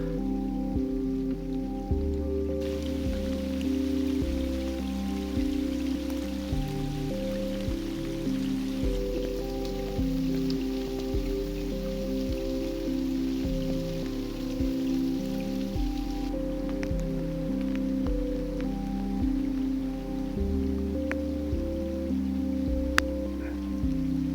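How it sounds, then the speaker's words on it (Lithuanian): Rain falls steadily on surfaces outdoors during a pike-fishing trip, a constant patter under a low, droning rumble that runs unbroken for the whole stretch, with no voices. "Slėpiuosi nuo lietaus, nusibodo. Tai palyja, tai nustoja."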